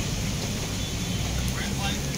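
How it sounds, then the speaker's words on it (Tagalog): Steady rain falls on a rainy afternoon where cats are being fed under shelter, a continuous broadband hiss with no breaks, moderately loud and close. "Ayan ang ulan oh."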